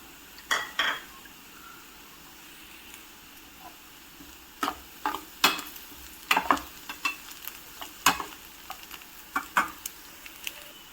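Onion and crushed garlic frying in a pan for fenugreek gojju, a soft crackle with scattered sharp clinks and scrapes of a spoon against the metal, close and without voices.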